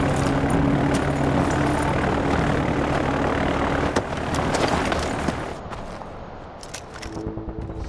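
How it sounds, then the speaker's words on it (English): Propeller plane engine running steadily at close range in Far Cry 4 before takeoff, a loud continuous droning roar that eases off and thins toward the end. "The one in the plane that's about to take off."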